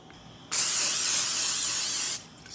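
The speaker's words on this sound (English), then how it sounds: "we're gonna spray this here pan" Cooking spray hisses onto a casserole pan in one steady, close burst lasting under two seconds, with quiet room tone before and after.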